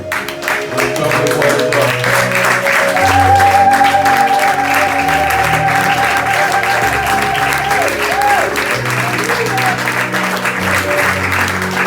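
A church congregation at a Sunday thanksgiving service claps and cheers to acclaim God, sustained loud applause lasting the whole stretch while an organ or keyboard plays held chords and a voice calls out over the crowd.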